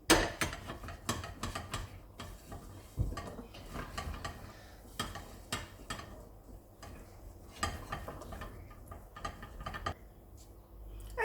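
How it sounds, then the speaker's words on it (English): Vegetables being stirred in a pan to coat them with flour, with a run of quick, close scraping and clicking strokes in an uneven rhythm and no talk. "Now you want to coat all of your vegetables in the pan with the flour mixture"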